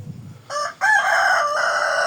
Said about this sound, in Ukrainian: Тут у нас курей таких попелясто сіреньких разом з півнями двома